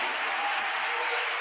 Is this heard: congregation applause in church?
yes